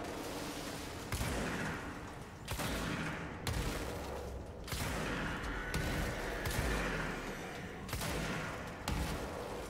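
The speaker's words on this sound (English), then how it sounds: "Let's start shooting with the shotgun now." Shotgun fire in the video game Control, roughly seven heavy booming blasts at irregular intervals, each with a sharp crack and decaying rumble, loud and dense with no talking.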